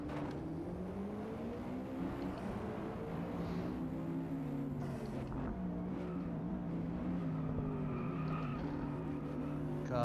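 A race car's engine drones and shifts pitch steadily in the Gran Turismo 7 video game played in PSVR2, a continuous moderate hum with gradual revving and no pauses.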